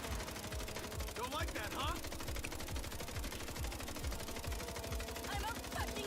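Rapid automatic fire from an MP7 in the video game MindsEye, a continuous dense stream of shots with no pause for reloading, fairly faint in the mix while someone speaks briefly over it.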